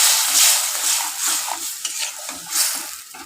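Water poured into a pan of frying onion masala for egg curry hisses and sizzles loudly while a spoon stirs and scrapes in uneven strokes, close up and heard alone.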